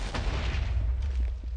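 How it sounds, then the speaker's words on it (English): Explosion in the Minecraft video game, a deep rumbling blast with broad crackling noise that fills the whole short stretch at steady loudness. "Okay, so that did a nice explosion."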